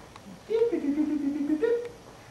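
A voice hums a sustained tone that steps between pitches, imitating telephone dialing tones, heard close and moderately loud.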